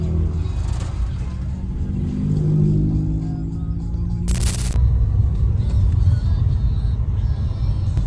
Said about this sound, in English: Drift car on the back, I guess.